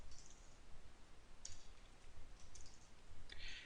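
Light clicking of computer keyboard keys in a few quiet, sparse bursts, soft and close against a low background hiss.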